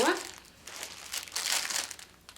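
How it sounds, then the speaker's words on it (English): Plastic packaging crinkles and rustles as a yarn skein is quickly unwrapped, in close, busy bursts with a brief voice at the start. "like I said, there will be crinkling."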